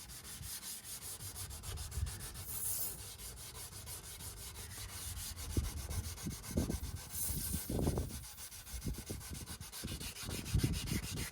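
Hand sanding strips spray paint from a fiberglass Don Prudhomme funny car body, a faint steady scratchy rubbing in uneven strokes that swell at times, with no one talking.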